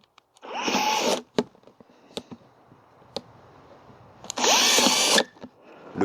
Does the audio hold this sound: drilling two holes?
yes